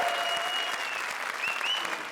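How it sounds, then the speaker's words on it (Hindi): Studio audience applause fills a comedy show stage (Comedy Circus 3 Ka Tadka grand finale), a dense, steady wash of clapping heard close and loud throughout, with a couple of faint whistles riding above it. "जोरदार तालियां इनके लिए."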